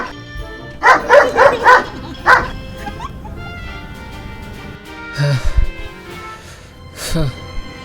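A dog barks in a quick run of four or five loud, close yaps, then gives one more bark; voices and scattered noises follow later, with a couple of short vocal outbursts near the end.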